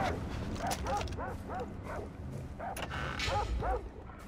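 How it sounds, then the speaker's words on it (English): Dog barking in the shooter Far Cry 3, a run of short, yelping barks repeating every half second or so, fairly close and loud over constant game background noise, with occasional whimper-like yips. "Dog is all around."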